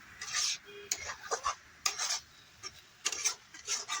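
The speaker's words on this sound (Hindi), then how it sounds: "अब तो मिक्स कर देता हूँ मसाले के साथ में" A spoon stirs sev into tomato masala in a pan, giving short scraping and rubbing bursts against the metal with brief pauses between strokes.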